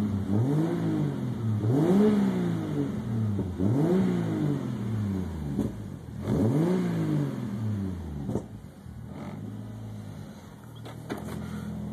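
A 1987 Toyota Supra with a swapped 2JZ engine, turbocharged and making about 420 rwhp, revs up and drops back in repeated sharp blips, about four or five, loud and close, with no talk.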